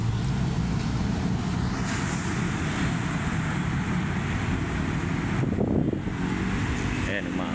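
Wind blows steadily across open Manila Bay, a constant broadband rush and buffeting on the microphone that lasts throughout, with someone talking over it.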